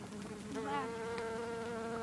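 A single bee buzzes outdoors with a steady, close, droning hum whose pitch wavers slightly as it hovers, heard on its own with no talk.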